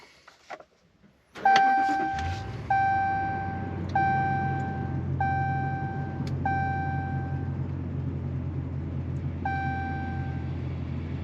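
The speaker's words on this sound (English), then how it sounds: "let's start the truck and see what happens" A 4th-generation Dodge Ram 1500 pickup is started: a short crank catches into a steady idle rumble, with repeated electronic dashboard chimes ringing out over the engine.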